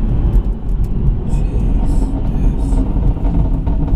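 Meth-injected 510 BHP BMW M140i engine pulling hard from inside the cabin, a steady deep rumble with rising drone and faint whirring, continuous for several seconds with no talk.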